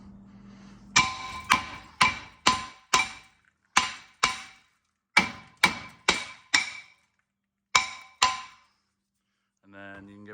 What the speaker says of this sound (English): you should just be able to hit it a few times, and it should break the rust around there